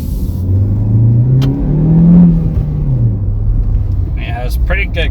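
A cheap, small new car pulls away in first gear, its engine hum rising and falling in a modest rev with a mid-pitched rumble, while someone talks over it and brief squeaks sound near the end.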